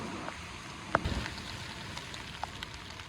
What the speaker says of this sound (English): See all the rain just beating up on top.